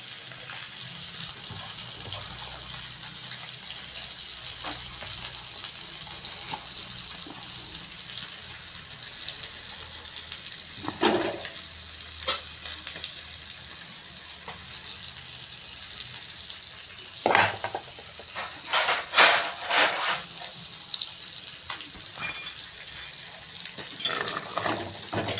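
Steady bubbling and sizzling of fish curry boiling in a pot on the stove, with occasional clinks and louder splashy bursts, no talking.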